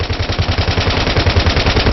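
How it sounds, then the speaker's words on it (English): Sustained rapid machine gun fire from many friendly soldiers in the video game Battlefield 3, a loud continuous burst of shots in quick rhythm with no talk. "You have a lot of friendlies firing at the enemy at the same time"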